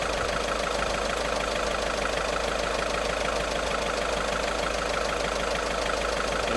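A 2012 Seat Altea engine idles after a timing belt replacement, a steady, even running drone with a faint rhythmic knock, close and continuous with no talking.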